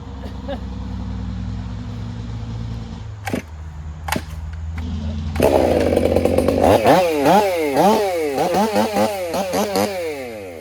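STIHL 500i chainsaw with a modified exhaust and new chain cutting through wood, loud close engine idling before a few sharp knocks, then a screaming high-revving cut with rapidly rising and falling pitch sweeps as the chain bites.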